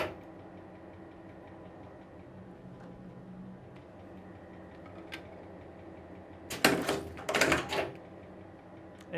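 A ring tyer machine performing a manual cut of the tie: a quiet mechanical hum with faint ticks, then two short, sharp clattering bursts of metallic snapping close together, near and alone without talk.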